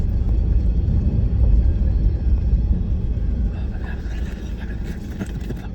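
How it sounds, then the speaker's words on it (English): Low rumble of a car driving past on a road outside a parked car, loud at first and then easing off as it recedes, with a faint hiss appearing near the end. "There's a car coming down the road."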